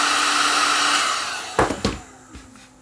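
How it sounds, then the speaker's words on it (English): A heat gun blows loudly and steadily while warming epoxy potting compound on an electric barbecue ignition module, then its airflow cuts and a few sharp clicks and clatters follow as the part is handled. "I'm just using my heat gun to heat it up."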